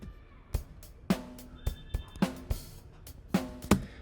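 A clean Gretsch drum kit from Superior Drummer plays a steady indie pop groove, with punchy kick and snare hits and crisp cymbal accents repeating evenly and alone, without voices.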